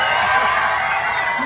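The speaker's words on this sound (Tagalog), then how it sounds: "Wala po bang palakpakan dyan? Wala rin po bang hiyawan dyan?" A crowd at a national costume parade in a pageant venue lets out loud, continuous cheering and whooping, a dense wall of shouts and applause with no pauses.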